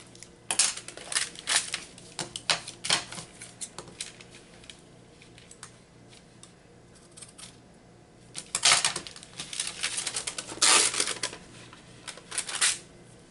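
Embroidery scissors snipping through junk mail paper, giving crisp clustered snips that come in quick bursts near the mic with short pauses between runs.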